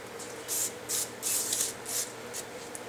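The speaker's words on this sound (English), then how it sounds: "I put another brake fluid, brake cleaner, so I can took my finger residue off from it." Brake cleaner sprayed onto a brake rotor during a pad and rotor change on a Suzuki Verona, heard as about six short hissing spray bursts of varying length, fairly close, with no talking.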